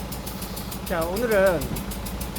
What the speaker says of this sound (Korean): 엔진 소리가 착착착착착착착 이런 소리가 나죠.